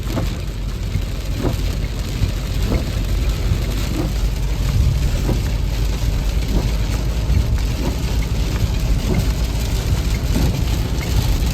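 Heavy rain pours down while a train is being driven, a loud, unbroken roar of downpour with scattered heavier drops and patter throughout.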